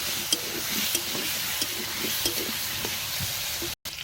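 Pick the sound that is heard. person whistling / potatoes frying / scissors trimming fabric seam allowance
potatoes frying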